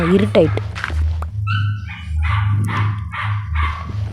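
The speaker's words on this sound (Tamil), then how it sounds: "இந்த நாய் வேறு ஓவராக குலைக்க ஆரம்பிச்சிச்சு." A dog in the Minecraft video game barks several times in quick, evenly spaced bursts over a low, steady background hum, after a short burst of other sound at the start.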